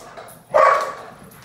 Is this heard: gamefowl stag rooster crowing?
no